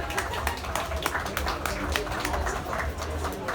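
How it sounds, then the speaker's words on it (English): Audience applause at a winery business talk, a dense steady wash of many hands clapping in a hall, with voices mixed in as the next speaker is welcomed. "Claps Please."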